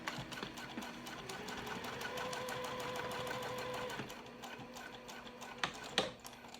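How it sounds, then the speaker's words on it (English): A sewing machine stitches a crossbody bag in a steady run of rapid needle ticks and motor hum for about four seconds, then slows and stops, followed by a few handling clicks and a sharp knock near the end. "All right, so I'm just gonna sew down to the bottom."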